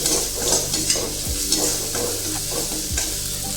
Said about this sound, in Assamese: পিঁয়াজ আৰু আদা নহৰু ভাজি লৈছোঁ দেই